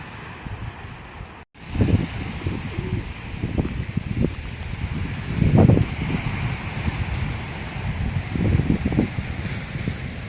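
Sea waves break against concrete tetrapods on the shore at Cijin, Kaohsiung, in rolling low surges every few seconds, mixed with steady wind buffeting the microphone.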